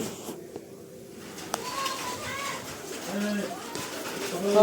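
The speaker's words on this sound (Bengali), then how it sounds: "কত পাখি উড়ছে দেখ" Pigeons coo outdoors with soft, repeated calls while a few wing flutters come through. A person talks over the birds throughout.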